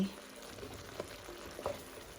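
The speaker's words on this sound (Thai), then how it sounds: "ผัดหมูใส่ฟักทองแล้วก็ถั่วนะคะเนาะ" Pork stir-frying with pumpkin and beans in oyster sauce, a faint, low sizzle with soft scraping and a couple of light clinks near the pan.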